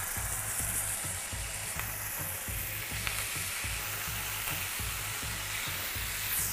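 Chicken with soy sauce sizzles steadily on a hot grill, a dense continuous crackle with low rhythmic popping, loud and close, with no talking.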